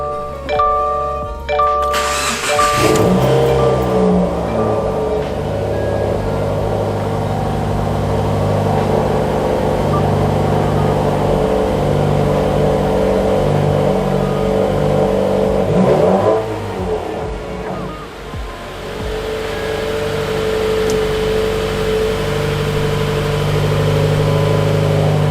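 Subaru WRX with a Cobb Accessport Stage 1 tune cranks, catches and settles into a steady idle, then revs up sharply near the middle before dropping back to idle, loud and close with no talking.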